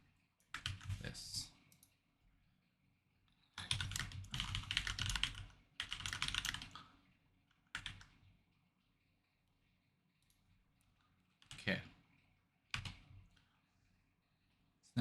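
Keys on a computer keyboard clatter in several bursts of rapid, close typing, separated by quiet gaps and a few isolated clicks, with a voice heard briefly.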